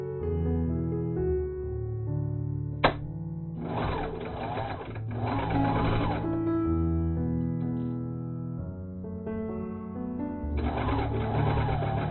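Serger stitching along the sides of quilt fabric, a steady mechanical whirring run in several bursts with brief pauses and a sharp click between them, close and clear.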